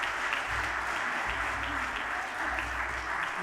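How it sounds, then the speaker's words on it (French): An audience applauds five mayors at a regional award ceremony, a dense, steady wash of clapping that carries evenly throughout, with no talk over it. "Peut-être on les applaudit collégialement."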